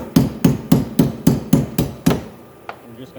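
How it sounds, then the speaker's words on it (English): A ball peen hammer drives a 1/4 inch punch against spring pins in a Contour pedal boat drive assembly, landing seven quick, evenly spaced, loud close strikes before stopping, followed by a faint tap. "take a 1/4 inch punch and your ball peen hammer."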